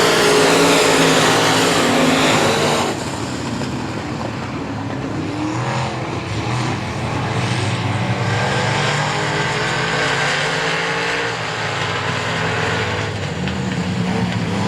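Race cars at I-37 Speedway run the final lap of a heat race, a steady roar of engines circling the oval, loud at first and then slightly more distant, with no talking.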